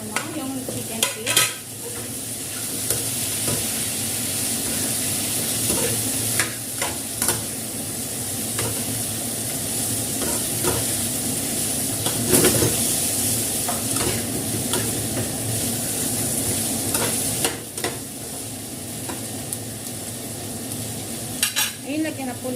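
Chicken feet sizzle and fry steadily in a pan, with repeated scraping stirs and clinks of a utensil against the metal throughout, close and fairly loud.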